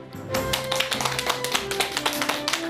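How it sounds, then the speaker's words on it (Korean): In a Korean TV talk-show studio, an audience claps in a regular rhythm to welcome a family medicine doctor, the sharp claps sounding over a backing of upbeat music. "큰 박수로 맞이해 주시기 바랍니다."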